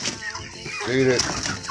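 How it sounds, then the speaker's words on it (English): Chickens cluck nearby in short, throaty bursts while someone speaks briefly. "Those are all the hens."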